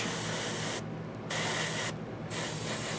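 Airbrush spraying paint onto a Reaper Hill Giant Lowland Warrior miniature for skin tones: a steady close hiss that cuts out twice briefly when the trigger is released, with no talking.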